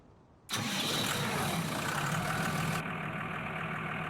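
A Lamborghini tractor engine in Farming Simulator 19 cranks and catches abruptly, then settles into a loud, steady idle with a slight drop in pitch.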